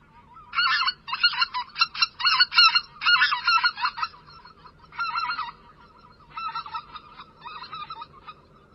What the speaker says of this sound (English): Here's a speckled belly goose. Also, the main name is the white-fronted goose.